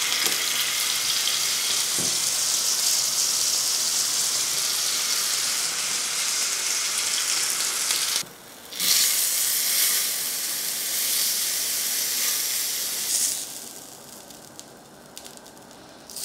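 Steak sears in vegetable oil on a smoking-hot cast iron plate, a loud, close, continuous sizzle and hiss that briefly dips, then settles into a quieter crackle near the end.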